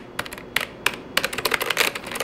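Keys on a Hikvision DS-1105KI CCTV control keyboard are pressed in quick, irregular bursts of crisp plastic clicks, close up and with no talking.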